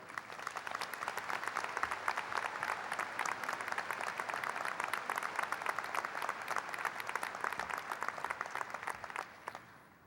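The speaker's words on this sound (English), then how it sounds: "Please join me in a round of applause for Dr. Philip Gardner." Sustained applause from a large audience at a high school graduation, steady and dense, continuing for several seconds before tapering off at the end.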